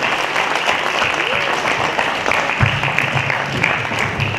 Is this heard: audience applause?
yes